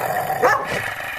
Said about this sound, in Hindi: टॉमी उन पर भौंकने लगता है।